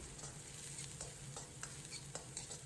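Scallion, ginger and garlic fry in hot oil with a steady close sizzle, while a spatula stirs and scrapes the wok in light, regular ticks over it.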